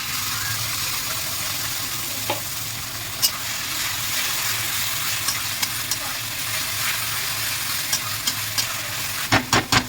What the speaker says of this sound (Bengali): মশলাটা দিয়ে আমি দু মিনিট মতো নাড়িয়ে নিয়েছি